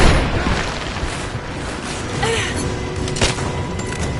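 Gunfire and booming blasts in Lara Croft Tomb Raider, a dense continuous barrage of shots and impacts with louder bursts standing out.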